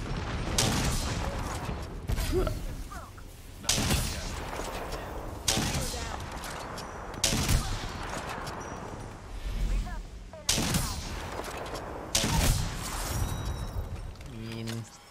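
Gunfire in a fast-paced shooter, an Apex Legends–style game with a Gravity Cannon, comes in heavy repeated bursts separated by short pauses, loud and close, mixed with mechanical clanks and game effects.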